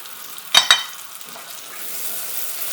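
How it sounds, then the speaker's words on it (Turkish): Peeled potatoes go into a pan with spices including thyme. Two sharp clatters are followed by a soft, steady sizzle of frying close by, with no talk. "Baharatlarla şöyle bir çevirdikten sonra patateslerimi ilave edeceğim."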